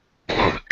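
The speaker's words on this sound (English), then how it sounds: "Sorry about the cough." One harsh, close cough bursts out after a moment of silence.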